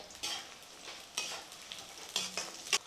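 Small shallots and garlic are sautéed in oil for a Chettinad fenugreek kuzhambu, with a spatula scraping the pan in irregular strokes over a faint, soft sizzle, close and without talk.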